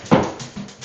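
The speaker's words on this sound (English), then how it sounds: "Can you see her? Yeah, that's my dog, Kona." A dog at home whimpers close by, letting out a sharp yelp followed by softer whiny murmurs in short bursts.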